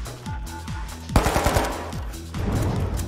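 Automatic turret gunfire in the destruction-heavy FPS video game The Finals, a quick run of sharp shots amid busy game sounds and other weapon fire, moderately loud.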